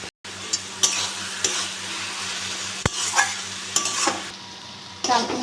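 Ash gourd pieces fry in a pan with a continuous sizzle, broken by repeated scraping stirs and a sharp clink of a utensil against the pan.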